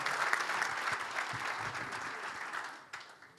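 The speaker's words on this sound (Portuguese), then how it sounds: "Uma salva de palmas para ele" An audience at a club day celebration claps steadily for an artist, a dense, fairly close round of applause that fades slightly toward the end.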